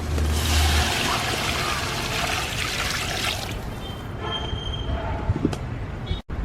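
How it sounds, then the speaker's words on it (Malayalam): Water pours steadily into a cooking pot of Yemeni madhhooth masala, a dense rushing trickle that fills the first half and then thins into fainter splashes and kitchen clatter. "ഇതാ വെള്ളം ഒഴിച്ച് കൊടുക്കണം."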